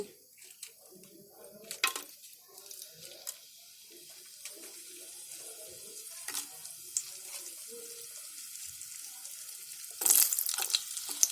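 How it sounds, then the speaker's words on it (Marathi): Green chilies dropped into hot oil in a pot for a sweet and sour masoor dal, with soft intermittent sizzling and crackling, a few sharper spatters and clinks, and a louder burst of frying near the end. "तेल तापल्यावर आहे ना त्याच्यामध्ये मिरची टाकायची"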